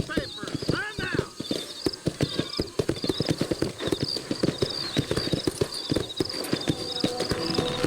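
Horse hooves clip-clop at a steady walking-to-trotting pace in the video game Red Dead Redemption, close and rhythmic, with a brief whinny near the start and a voice speaking over it.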